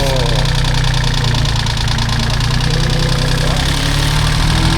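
A mini excavator's diesel engine runs loud and close, a steady mid-pitched rumble with constant knocking vibration that holds throughout, without clear rises in pitch.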